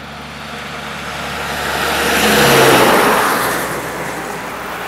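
A road vehicle crosses a bridge in Hampton, Arkansas, its engine and tire roar swelling to a loud peak midway before fading away, with no talking.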